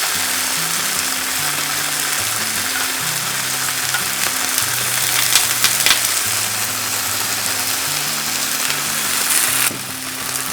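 Firm tofu sizzles and fries steadily in a pan, a dense, loud crackling hiss that holds evenly throughout, with faint tonal music underneath.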